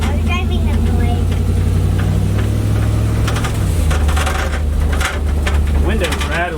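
Exhaust of a 1979 Jeep Cherokee Chief with a steady, loud low rumble heard from inside the vehicle during a drive, with intermittent voices and rattling over it throughout.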